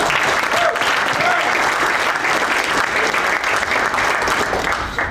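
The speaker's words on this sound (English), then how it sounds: "Another round of applause for Jesse." Dense, loud audience applause at a tech workshop, an unbroken wash of many hands clapping at close range, with faint voices mixed in beneath it.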